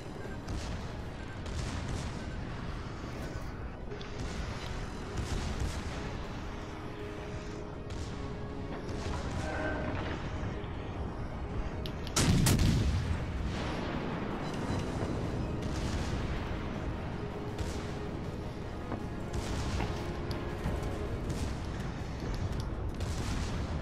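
Naval artillery fire in a warship video game, with a heavy booming blast standing out midway above a constant rumbling battle din and scattered distant shots.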